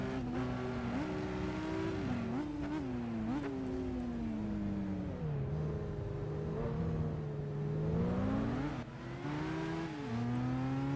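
Ferrari race car in Gran Turismo 5, its engine wailing loud and close as it revs up and down through gear changes, pitch rising and dropping repeatedly over about eleven seconds with no talk.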